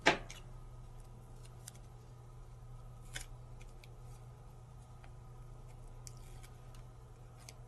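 Scissors cut leftover purple craft paper during a papercraft session, giving a few faint, sparse snips over a steady low room hum with no talking.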